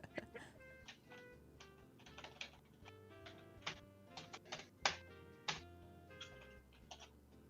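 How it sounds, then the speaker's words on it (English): Typing on a computer keyboard, with irregular bursts of clicky keystrokes, some sharper and louder, over soft background game music. "I think it sounds like you're using a keyboard."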